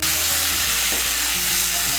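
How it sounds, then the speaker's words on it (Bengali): Fried potatoes and pointed gourd sauté in spice paste for a Bengali aloo potol dalna, a loud, continuous close sizzle over a faint low hum. "আলু আর পটলটাকে মশলার সঙ্গে একটু কষিয়ে নেব।"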